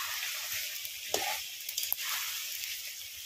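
Chicken pieces for chicken curry frying in oil, a steady broadband sizzle with a few brief louder pops and stirring scrapes, close and alone.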